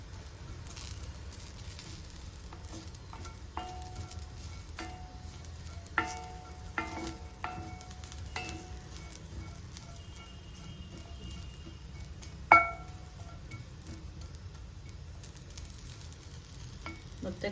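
Bitter gourd frying in a pan as a side dish, a soft steady sizzle with scattered spatula scrapes and taps, plus one sharper clatter near the end, close and without voices.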